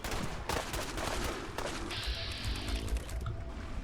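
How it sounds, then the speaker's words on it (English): Gunfire in a Fallout 4 battle: dense, continuous rattling volleys with sharp blasts that fit grenade explosions, loud and close with no pauses. "That's a grenade. Why are you throwing grenades at me?"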